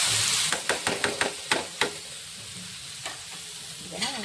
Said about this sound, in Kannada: ಕಟ್ ಮಾಡ್ಕೊಂಡಿರುವಂಥ ಕಲ್ಲಂಗಡಿ ಪೀಸ್ನ ಹಾಕ್ಕೊತೀನಿ